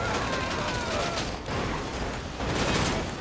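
Dense, sustained gunfire in GTA V during a casino heist, a continuous roar of rapid shots with brief dips, loud and close throughout.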